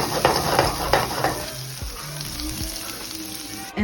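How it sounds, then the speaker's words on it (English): Cut peppers sizzle and fry in a pan for a salmon dish, a steady close crackle with stirring clatter near the start that fades to a softer sizzle, with no talk. "now I'm gonna cook some peppers that I cut in for some extra flavor for our"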